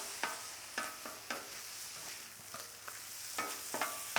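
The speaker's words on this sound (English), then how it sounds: "A little moderate chop, breaking up that tissue" Thinly sliced Philly cheesesteak meat on a flat griddle, chopped with a spatula: about a dozen sharp metallic chops at an uneven rhythm over a soft continuous sizzle, close and alone.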